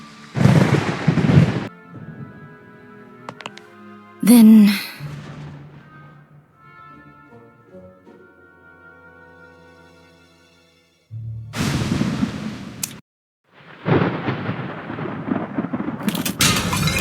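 Thunder rolls through a stormy night in the video game Identity V: loud, close booming cracks break out, fade into long low rumbles over a quiet background, then strike again near the end.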